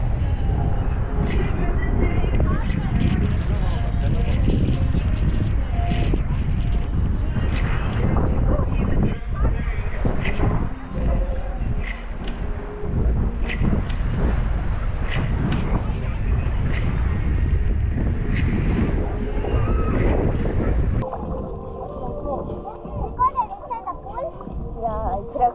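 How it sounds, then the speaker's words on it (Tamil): Strong, gusty wind roaring across the microphone on the shore of Lake Victoria, a loud continuous buffeting rush that eases near the end, with faint voices underneath. "ஆனால் காற்று பார்த்தீங்கன்னா பயங்கரமான ஒரு காற்றுங்க"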